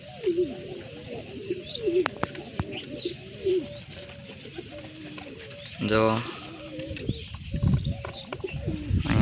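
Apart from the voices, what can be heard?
pigeon chick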